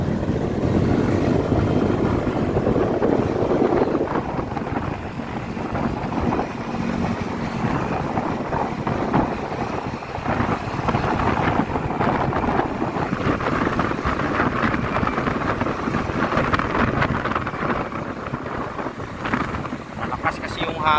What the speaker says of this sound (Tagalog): Malakas kasi yung hangin kaya